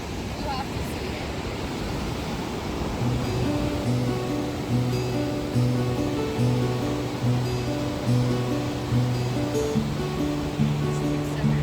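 A waterfall where two separate rivers meet roars as a constant broadband wash, with steady musical tones playing over it.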